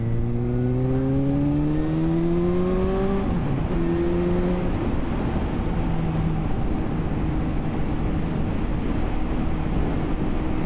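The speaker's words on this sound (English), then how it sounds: "You can definitely tell if it's windy by riding a bike, that's for sure." A motorcycle accelerates through its gears, its engine pitch climbing and then dropping at each shift, all under heavy, constant wind roar against the microphone while riding on a windy day.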